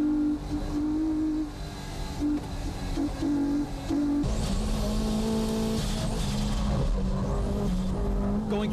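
High-powered race cars including an Amuse S2000 and an NSX racing at Fuji, engines roaring loud and close with rising and falling revs and a brief tire squeal, no talk over it.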